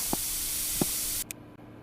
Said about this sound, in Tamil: நம்ம கடை வாசலே அதுக்காக ஸ்ப்ரே அடிக்கணுமா?